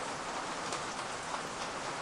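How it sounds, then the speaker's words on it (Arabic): Steady rain falls throughout, a dense even hiss of drops on a surface with no pauses, heard as ambience in a haunted restaurant video game. "الدنيا بتشتي والدنيا رعب على الاخر"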